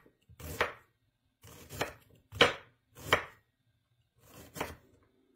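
An onion being cut into large pieces with a knife on a board: five or six distinct, close chops at uneven intervals, separated by quiet gaps, with no talking.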